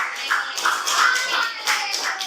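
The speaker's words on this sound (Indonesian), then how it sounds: "kita berikan aplaus buat kelompok 2" Classroom applause for a student group after a presentation: a burst of clapping from many hands, steady and fairly close, lasting a couple of seconds with no talking.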